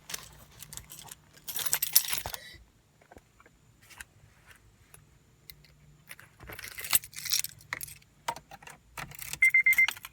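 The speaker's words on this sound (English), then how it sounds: "Let me get the keys." Car keys jangle in bright metallic bursts, first a rattling handful near the start and then again later with small clinks, close and fairly quiet against a quiet room.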